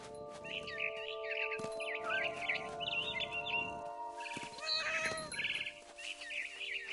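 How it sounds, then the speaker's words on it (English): Barn swallow chirping in the video game What Remains of Edith Finch, with repeated bright twittering calls over a steady ambient game soundscape and low background rumble, close and moderately loud. "Then I heard chirping outside my window. It was a barn swallow going back to her nest."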